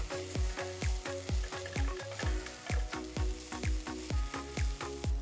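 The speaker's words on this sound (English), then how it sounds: "fry the onions till they are nice golden brown in color" Onions and ginger garlic paste fry in a pan with curry leaves, a steady sizzle broken by regular scraping stirs, close and loud with no talking.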